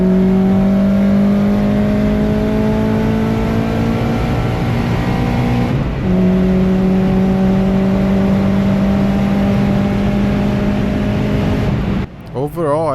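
Race car engine on a track accelerating hard out of corners, a loud steady drone rising in pitch through two long pulls with a brief shift between them, heard close from inside the car before a sudden cutoff.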